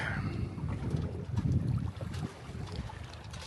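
Gusty wind on a lake buffets a Catalina 22 sailboat sailing under a reefed mainsail, with gusts to 25 knots, producing blustery, fluctuating wind roar and microphone rumble over faint water sounds.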